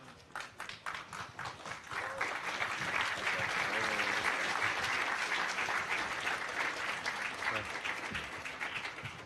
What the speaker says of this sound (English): polite applause would be appropriate, I think.